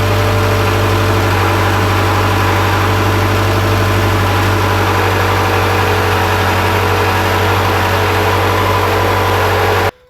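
A 2005-2012 Subaru engine idles steadily and loudly at close range, a constant low hum with slight variation in the idle, running alone without speech until it cuts off at the very end.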